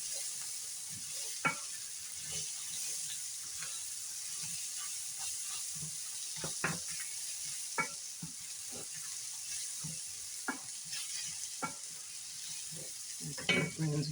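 Hot dogs browning in a hot frying pan, with the heat being turned down a little, give a steady close sizzle and hiss, broken by scattered clicks and scrapes from stirring, with no talking.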